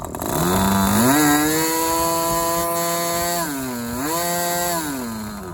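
A brand-new model glow engine screams at high revs, its buzzing pitch rising, holding, dipping and climbing again as the mixture is adjusted toward lean, loud and close with no talk.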